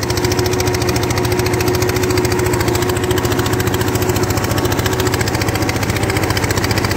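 A Fordson Major E27N tractor engine runs in second gear, a loud, steady, close chugging drone with an even rapid pulse that holds throughout.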